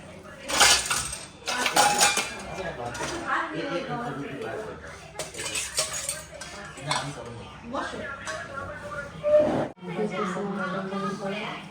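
Plates and dishes clatter and clink as they are handled, with cutlery chinking in scattered bursts, under steady conversation between several people.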